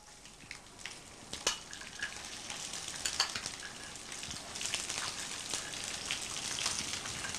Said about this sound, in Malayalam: എന്നിട്ട് നന്നായിട്ട് ഒന്ന് ഇളക്കി കൊടുക്കുക.